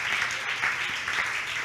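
An audience at a church service on spiritual warfare clapping in applause, a steady wash of hand claps filling the short moment without clear talk.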